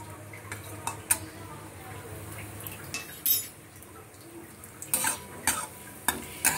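Carom seeds (ajwain) are dropped into hot oil with cumin while frying sweet potato semolina tikki. A quiet oil hiss carries on under repeated sharp clinks of a spoon against the pan.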